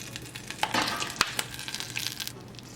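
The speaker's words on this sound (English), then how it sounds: "Into a saucepan over medium heat, I'm going to add 1 stick of butter, which is equivalent to 1/2 cup. And 1/2 cup of brown sugar." Butter and brown sugar melting in a saucepan over medium heat give a soft, steady sizzle with light crackles and one sharp clink near the middle, close and fairly quiet, with no talking.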